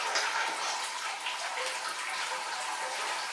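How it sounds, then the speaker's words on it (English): Liquid drains steadily from a Grainfather all-in-one brewing system, a continuous close rushing, gushing pour of water with no break and no voices. "So I'll just let this drain"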